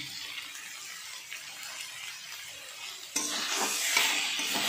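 Taro stems stirred with turmeric and salt in a frying pan, a soft continuous sizzle that swells louder midway as the stirring picks up, close and alone.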